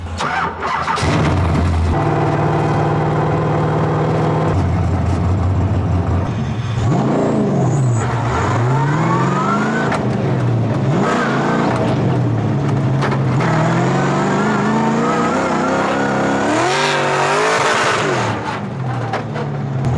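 An LS V8-swapped Mazda Miata at a drift event at Englishtown Raceway Park starts up and revs hard. It gives repeated rising and falling engine sweeps, loud and close throughout, with no talking.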